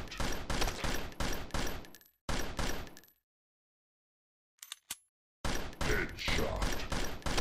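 Rapid bursts of gunfire in the zombie shooter video game Gun Trigger Zombie, loud repeated shots in two clusters, a near-silent gap, then more firing.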